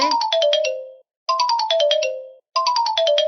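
Three bursts of bright, ringing mallet notes in quick descending runs, each about a second long with short silences between, clear and close.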